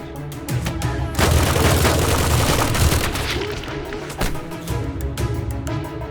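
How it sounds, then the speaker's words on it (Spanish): Rapid bursts of gunfire from GEO police opening fire in the Spanish horror film REC, a dense, loud fusillade that swells after the first second and rolls on continuously with sharp individual shots poking through. "Los geos abren fuego y los acribillan a tiros."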